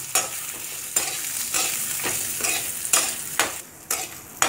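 Shallots, garlic and dried red chillies sautéing in hot oil for a mint chutney, a steady sizzle broken by repeated scraping stir strokes roughly every second, close and moderately loud, with no voices.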